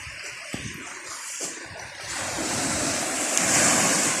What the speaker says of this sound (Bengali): এই যে পানির শব্দ কত সুন্দর